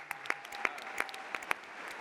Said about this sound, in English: Let's give this guy a round of applause